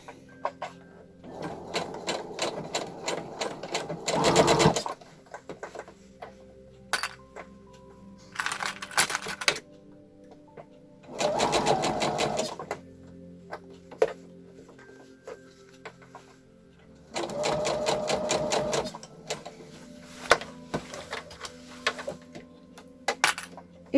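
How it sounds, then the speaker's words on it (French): Sewing machine stitching a seam around a baby romper, with four loud bursts of rapid mechanical stitching separated by quieter pauses and light handling clicks. "Et vous allez coudre comme ça sur 1 cm tout le contour"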